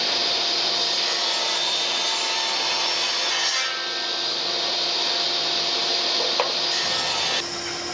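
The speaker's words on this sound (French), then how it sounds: "je réalise deux saignées sur chacun des champs à la scie circulaire" A circular saw cutting two grooves into the edges of small wooden boards, a steady loud whine with cutting noise that runs for about seven seconds, then cuts off and leaves the motor spinning down.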